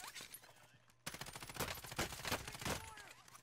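Rapid bursts of automatic gunfire in a shooter video game crackle through the clip, dense and loud after a brief pause, with a player's voice faintly underneath.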